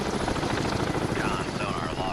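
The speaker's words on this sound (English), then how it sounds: "That's a helicopter." Helicopter rotor thumping steadily inside a submarine video game, a dense continuous chop close and loud with voices talking over it.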